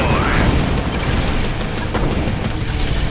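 Artillery shells exploding in the Red Alert 20XX strategy game, a rapid cluster of heavy booms and crashes layered over one another, loud and continuous for a few seconds.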